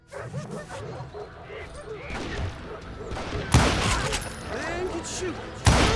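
Gunfire from the Western shooter game Call of Juarez: Gunslinger bursts out in loud sharp blasts near the middle and end, over a busy bed of game sound and voices.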